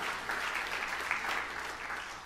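Church congregation claps in a burst of lively applause, a dense, steady patter of many hands over a couple of seconds, moderately close with no speech.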